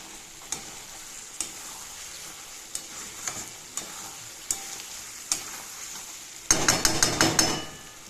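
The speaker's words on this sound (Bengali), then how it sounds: "কষে নিচ্ছি মাংসটাকে" Mutton stir-frying (kosha) over low heat in a pan: a steady soft sizzle with periodic sharp scrapes and taps of a spatula roughly once a second, building into a louder burst of rapid stirring clatter near the end.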